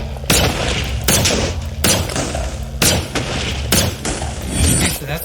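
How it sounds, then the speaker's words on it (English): A crab cannon weapon fires in Minecraft with the Fisk Superhero Mod. Five loud, sharp blasts come at irregular intervals, each with a brief crackling tail, and no one speaks. "So let's try the crab cannon."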